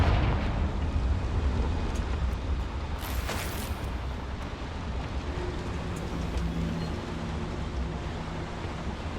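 The Confringo fire spell bursts in Hogwarts Legacy, a loud rumbling blast with a sharp crackling flare early on, then a sustained roaring wash of noise that slowly fades.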